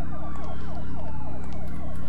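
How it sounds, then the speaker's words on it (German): Loud, continuous wailing of police car sirens in the video game Parasite Eve 2, with repeating up-and-down sweeps over a dense, steady background. "Hier stehen Polizeiautos rum."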